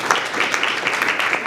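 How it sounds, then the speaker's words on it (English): Parents in a school family gathering clap together, a dense, even wash of applause from a full room that holds steady at close range throughout. "So give yourselves a clap"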